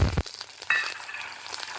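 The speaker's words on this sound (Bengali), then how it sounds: "আলুটা দিয়ে একটু লাল লাল করে আগে ভেজে নেব" Potatoes fry in a pan, a short burst of sizzle and stirring opening into a soft, steady crackle, close and fairly quiet.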